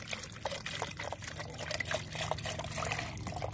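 Water pouring into a bottle to make a baking soda fungicide, a soft trickling and splashing stream with gurgles, close but quiet, continuous for a few seconds.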